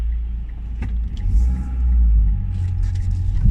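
A 2009 Mitsubishi Lancer diesel with a turbocharger accelerating, heard from inside as a loud low engine rumble that swells in the middle and holds steady, with no talking.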